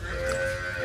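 A cow moos in one sustained, loud, close call on a farm, with a steady low drone throughout and no talking.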